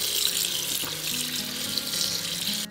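Soaked soybeans rinsed under running water, a steady close splashing and gushing like a filling sink, with faint clinks and shifting tones as the water moves through the beans.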